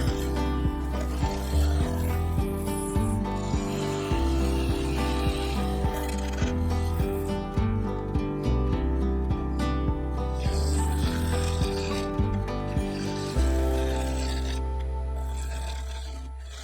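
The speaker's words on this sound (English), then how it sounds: "Then I switched to the full-size carbide to remove the bulk of the tool marks and begin the final shaping of the sidewall" A full-size carbide lathe tool shapes the sidewall of a sapele and white resin segmented bowl, giving a steady close rasping scrape over a constant motor hum, with rhythmic pulses as the tool passes.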